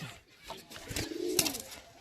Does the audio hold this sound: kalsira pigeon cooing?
yes